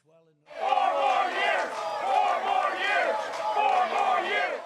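A crowd of supporters at a Republican national convention hall erupts in loud, sustained cheering and shouting, rising abruptly after a brief quiet moment and holding steady with waves of voices.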